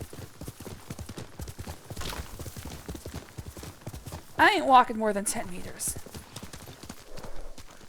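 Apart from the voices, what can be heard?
horse hooves clip-clopping in video game Ghost of Tsushima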